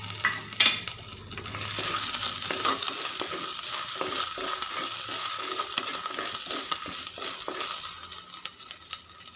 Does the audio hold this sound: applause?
no